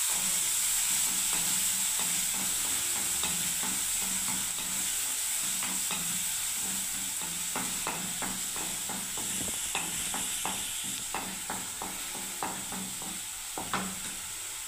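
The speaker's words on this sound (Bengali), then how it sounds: "পেঁয়াজ কুচো দিয়ে দিলাম বন্ধুরা, একটু ভেজে নিই।" Chopped onion fries in a pan with oil and cardamom, giving a steady close hiss, while frequent quick scrapes and taps of a stirring spatula run through it. There is no speech.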